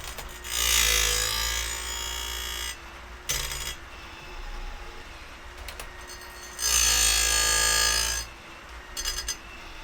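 A Woodland Mills RCS28pro chainsaw chain sharpener grinds a chain, loud abrasive bursts of the wheel against steel alternating with quieter whirring between passes, close and without talk.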